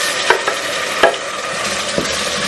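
Blended paste hitting a hot pan for dum aloo, with a few sharp stirring knocks over a steady frying hiss, close and moderately loud, no talk.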